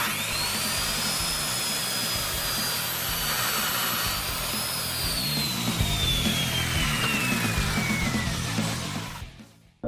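A power saw cuts through wood along a guide arm with a steady, close, loud whine and a slowly falling tone, running for about nine seconds before it cuts off abruptly.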